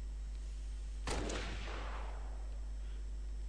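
A single sharp gunshot cracks out in the video game Halo Reach, followed by a decaying reverberant tail over a steady low electronic hum.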